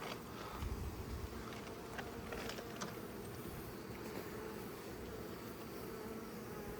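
Honeybees buzzing steadily around an open hive during nucleus colony work, a dense continuous hum close by with occasional nearer passes, no voices.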